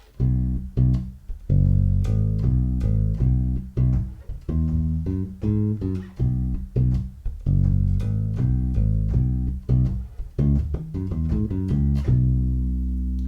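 A solo bass guitar plays a repeating major pentatonic groove, plucked notes stepping up and down in a steady looping rhythm, clear and close.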